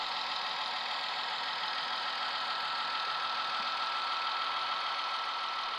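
A Märklin model V60 diesel locomotive hauls three covered freight cars along a branch line, giving a steady, continuous whirring motor hum and track rumble, even in level with no pauses.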